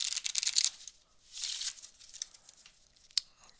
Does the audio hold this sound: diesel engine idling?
no